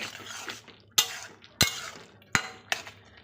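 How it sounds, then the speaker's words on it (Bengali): Metal lid lifted off a pot and a spoon stirring Malabar spinach with potatoes and jackfruit seeds, with three or four distinct sharp clanks of metal on metal over soft scraping. "চলো একটু ঢাকাটা খুলে দেখি একটু নেড়ে দেব"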